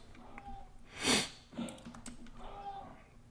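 A single faint, quick nasal sniffle close to the microphone, followed by a couple of soft breaths and light clicks in a quiet room.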